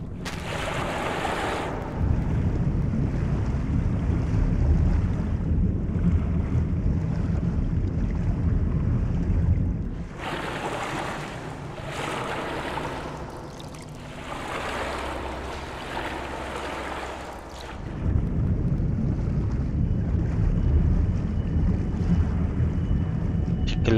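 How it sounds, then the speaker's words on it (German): Water in a hellish setting from the video game Agony, a steady rushing, wind-like wash of waves that runs loud and continuous, easing briefly in the middle before swelling back, with no talk over it. "Also mit Wasser hatte ich jetzt nicht gerechnet in der Hölle."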